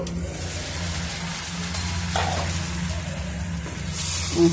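Brinjal and chicken curry simmering in a pan, a steady low sizzle and bubbling that carries on throughout, with a few faint clinks near the end.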